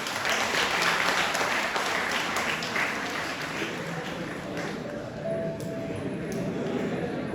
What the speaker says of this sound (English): a good clap for them